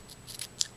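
Scissors snip pink fuzzy material for a sandal trinket box, a quick series of four or five soft, close crisp cuts in an otherwise quiet room.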